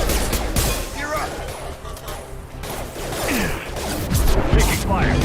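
Gunfire rattles through combat in Mass Effect Legendary Edition, with rapid shots, whooshes and impacts mixed under a dense game soundtrack, while someone talks over the action.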